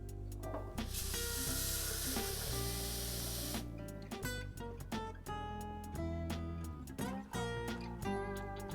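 Two cups of water poured into a hot pan of rice burst into a loud, steady hiss and sizzle, then the spitting and crackling settles into an uneven bubbling that continues for several seconds.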